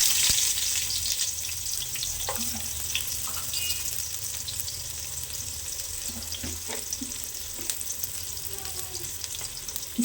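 Onion frying in about four spoons of hot oil in a pan for mutton keema, a steady close sizzle with a few scattered clicks and stirring scrapes, no talk.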